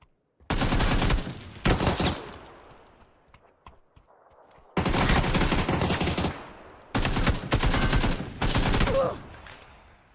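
Rapid automatic gunfire from the PUBG battle royale game comes in three long, loud bursts separated by short pauses, each a dense rattling stream of close shots.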